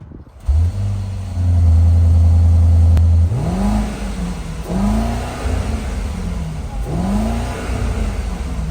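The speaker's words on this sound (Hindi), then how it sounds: "This is a massive twin turbocharge V8 engine. Take listen." A 2024 Mercedes GLS 580's twin-turbo V8 idles with a deep hum, then barks into a loud sustained rev followed by three sharp blips that rise and fall, recorded close with no talking.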